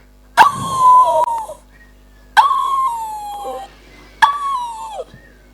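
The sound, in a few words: voice imitating a barking dog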